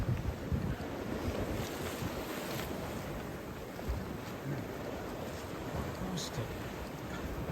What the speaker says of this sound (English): They weren't exaggerating with these waves, were they?